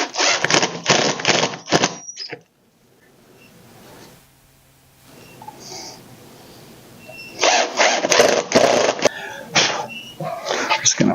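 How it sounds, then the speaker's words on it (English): Drill countersinking and driving wood screws into a table saw sled. Two loud, close bursts of whirring, with a quieter stretch between them. "We'll just kind of do a real quick countersink on these. Put in the screws."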